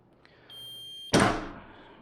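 Heat press timer beeping as it finishes a press of heat transfer vinyl, a steady electronic tone followed by a loud thunk of the press opening.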